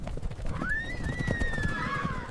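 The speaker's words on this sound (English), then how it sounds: "Sudden stir of horses" Horses stirring on an open steppe camp, a long rising and falling whinny rings out clearly over a low rumble of shuffling hooves and movement.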